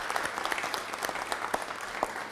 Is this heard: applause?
yes